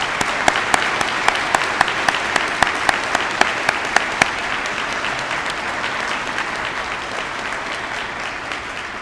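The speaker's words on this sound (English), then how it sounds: "I think that she deserves a round of applause" Applause from an audience at an outdoor school honors ceremony, a steady wash of many hands clapping with a few sharp louder claps near the start, fading slightly toward the end.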